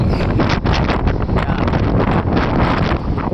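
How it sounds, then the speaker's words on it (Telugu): Loud, blustery wind buffeting the microphone, a dense continuous roar that gusts and dips over a few seconds. "పెద్ద గాలి."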